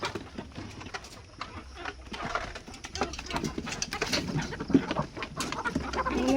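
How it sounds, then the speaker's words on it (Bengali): Backyard chickens gathered at feeding time on a Bengali household farm, clucking and cooing continuously at close range over a busy, uneven bed of scratching and shuffling, with a brief voice in the background. "আমার বাবা এই যে মুরগিগুলোকে খাবার দিচ্ছে, জল দিতে হবে"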